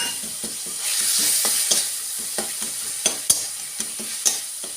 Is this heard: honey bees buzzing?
no